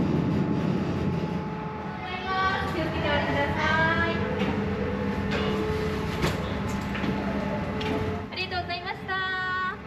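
A sightseeing trolley train pulls into Kanmon Kaikyo Mekari terminal station, with steady rumbling rail noise, a mid-clip clatter and a brief squeal of brakes near the end. Voices are faintly heard underneath.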